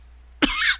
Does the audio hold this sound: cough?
yes